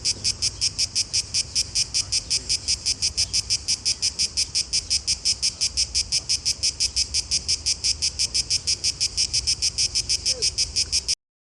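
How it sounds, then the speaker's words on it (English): Loud, rapidly pulsing insect buzz from cicadas in trees in Athens, Greece, a dense steady rhythm that continues unbroken throughout with no voices. "they were recording the cicadas that were on the side"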